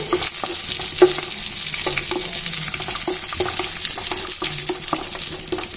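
Cumin, cashews, cloves and green chillies fry in hot fat for jeera rice, with an even, loud sizzle throughout and light metallic taps of a spoon against the pan at irregular intervals.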